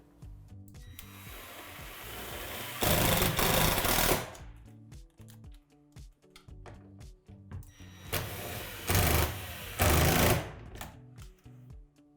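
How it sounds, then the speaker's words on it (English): Self-tapping screws driven by a power driver through a plastic skylight into a Lifetime 20 by 8 foot outdoor storage shed roof: two loud whirring bursts, a few seconds apart, with quieter handling noise between them. "Now you're going to insert a self-tapping screw through these divots here."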